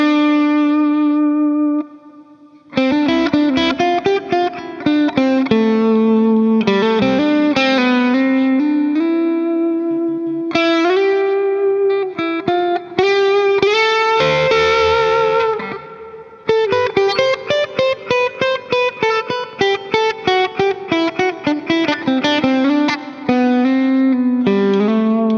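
Distorted electric guitar through a Laney tube amp simulator plugin plays chords and melodic lines, with a noticeable reverb tail lingering after the notes.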